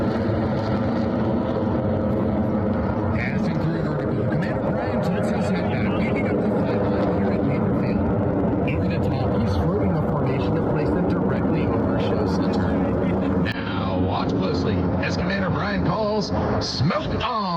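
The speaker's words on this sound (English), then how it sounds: "Blue Angels. F-18 Super Hornets." Blue Angels F-18 Super Hornet jets fly overhead at an air show, a loud continuous roar with shifting tones that surges near the end, with speech mixed in beneath the noise.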